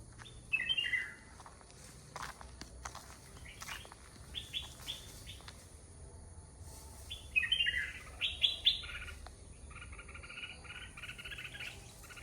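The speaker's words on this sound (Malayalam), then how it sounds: "അതൊക്കെ നമ്മുടെ തൊപ്പിക്കിളികളാട്ടാ." Crested birds (thoppikili) calling among bamboo, sharp chirping bursts that come and go over a steady background of insect buzz, some calls close and others further off, with no talking.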